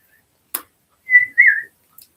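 Two short whistled notes, the second sliding downward, sounding clear and fairly close after a brief click, with quiet gaps around them.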